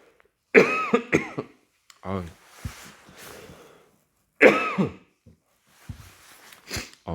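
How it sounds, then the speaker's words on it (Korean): A man coughs repeatedly in a classroom, with two harsh bursts of several coughs each and throat clearing in between, close and loud with no talk over them. "자꾸 기침이 나오네."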